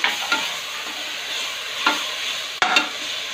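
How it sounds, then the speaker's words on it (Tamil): Mint leaves sautéing in oil with ginger and garlic in a pan for coconut milk rice, a close, steady sizzle with a few sharp spoon scrapes and stirs, the loudest near the end, no talking. "நம்மளோட புதினாவை போட்டுக்கலாம் இப்போ நல்லா வதக்கலாம்"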